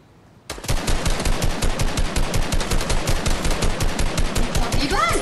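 Rapid automatic gunfire in Fortnite Battle Royale: a dense, loud burst of evenly spaced shots starting abruptly after a quiet moment and rattling on without pause.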